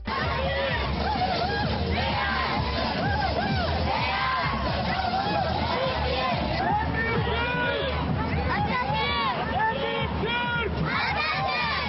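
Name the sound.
children shouting "Türkiye" while marching in the streets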